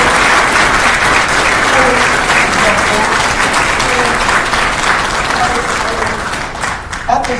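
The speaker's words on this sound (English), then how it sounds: "please join me in a round of applause for all your graduates today" A large audience at a military field artillery graduation ceremony claps loudly and steadily, and the applause fades slightly toward the end.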